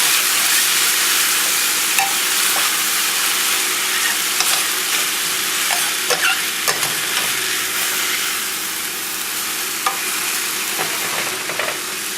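Finely chopped vegetables stir-fried in a pan for a quick turkey dinner, a loud continuous sizzle broken by scattered clinks and scrapes of stirring, close up with no talk.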